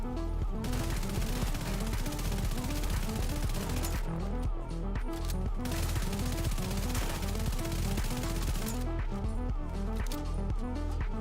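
Sustained rapid assault rifle fire, likely the Railsplitter, rattles almost without pause in the shooter game The Division 2, loud and dense, with brief dips in intensity.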